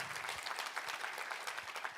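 A church congregation applauds in praise during a sermon. The soft, continuous clapping of many hands is heard from a distance at low volume throughout.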